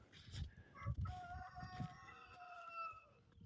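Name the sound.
rooster crowing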